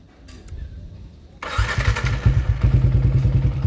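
A motorcycle engine cranks with a sharp thump after a quiet moment, then catches and settles into a loud, steady, throbbing idle close by.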